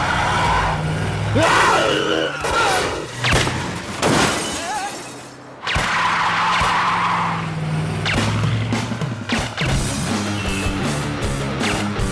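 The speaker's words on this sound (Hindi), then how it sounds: "गाड़ी घुमा जल्दी।" A car spun around quickly in an action-movie chase, with repeated sharp tire skids and screeches, engine roar and crashing impacts, plus brief shouted voices.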